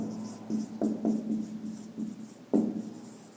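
A pen writes on paper during a class 10 geometry lesson, soft scratchy strokes with a few sharper taps, close and quiet, with no talk.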